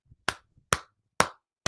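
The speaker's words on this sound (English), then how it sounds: "Clap, yep." Four sharp hand claps at a steady, deliberate pace, each a crisp, close slap with a quick decay, separated by near silence apart from faint low thumps.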